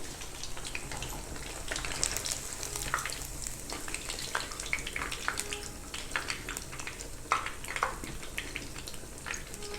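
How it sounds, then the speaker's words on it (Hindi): Fish frying in oil in a kadhai gives a steady, close sizzle with dense crackling pops throughout, with no talking. "अब हमने एक कढ़ाई पे ऑयल लिया है, अब फ़िश को फ्राई करेंगे।"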